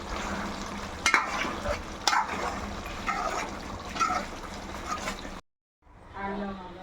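Chicken curry with kasuri methi is stirred in a pan, a spoon scraping and clinking against the metal several times over a soft steady sizzle, with a short silent gap near the end.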